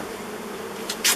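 Bees buzzing at an old beehive left unopened for over 30 years, a close, steady droning hum, ended by a brief louder burst of noise.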